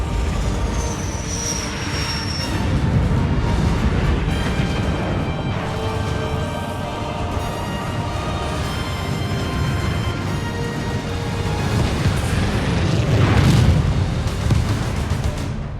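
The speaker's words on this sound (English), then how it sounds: "Isabel, launch Archer missiles now." Archer missiles launch and detonate in a Halo Wars 2 cutscene, a dense, loud roar of rocket whoosh and rumbling blasts that carries on steadily and swells near the end, with no talking.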